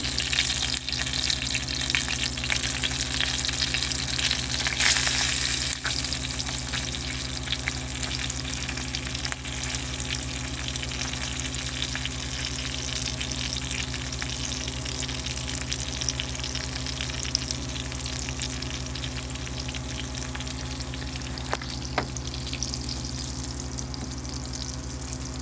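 Breaded, rehydrated freeze-dried pork loin fries in hot grease with a steady, close, dense sizzle and crackle that never lets up, with an occasional pop.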